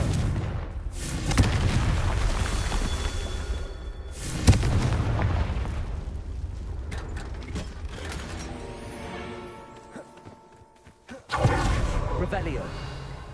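Confringo fire spell blasting in the Hogwarts Legacy video game, a sharp booming impact at about four seconds amid creaking, mechanical game sounds, with another burst near the end.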